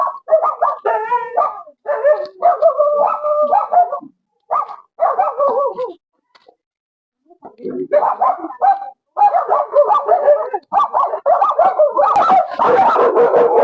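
Many dogs bark in overlapping bursts in a Kerala village, loud and close, with a short lull in the middle before the barking swells again into a dense chorus.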